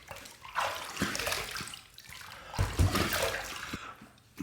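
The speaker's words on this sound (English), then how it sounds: "That's the first pass done. Let's rinse." Running water rinses a Crusader adjustable safety razor after a shave pass, heard as close bursts of splashing and trickling, with a few sharp taps and knocks in between.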